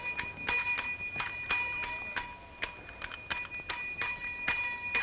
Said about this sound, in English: take that bell and put it away